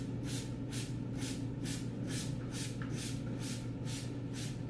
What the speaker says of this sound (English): So I'll go ahead and spray it all down here.